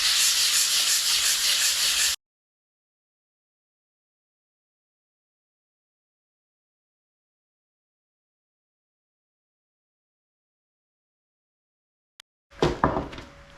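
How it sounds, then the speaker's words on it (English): Light hand sanding of a chopping board with 320 grit sandpaper, a steady close rubbing hiss for about two seconds, then a long silence and a short burst of handling and rubbing near the end. "we'll sand it off lightly using a little bit of 320 grit sandpaper"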